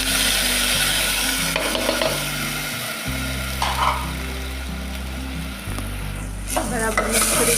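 Washed rice frying with cumin in a hot pan, a loud continuous sizzle broken by repeated stirring and scraping strokes, with a low steady hum underneath and no talk.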